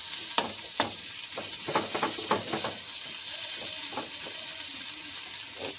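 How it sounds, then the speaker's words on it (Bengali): Onions frying in a pan with salt added, a steady soft sizzle underneath with several sharper crackles and spoon clinks in the first few seconds, then a quieter continuous hiss. "পেঁয়াজটা একটু ভাজা ভাজা হোক"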